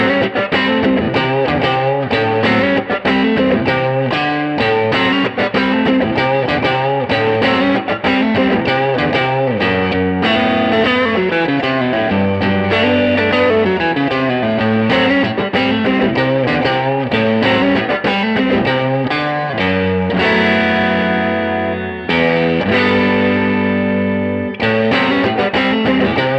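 Electric guitar with a thick, distorted tone, playing continuous chords and lead lines with effects, loud and steady throughout with no talking.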